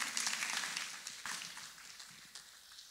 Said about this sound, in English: can you clap for Master Jesus?